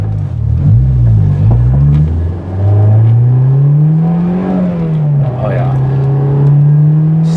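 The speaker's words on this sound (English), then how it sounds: "Let's see what it sounds like with the silencers, resonators in." A right-hand-drive JDM Honda S2000 with a Skunk2 Mega Power exhaust and its resonators fitted, driving with a steady low engine drone that rises and falls as it accelerates, heard close from inside the car, with a voice talking over it.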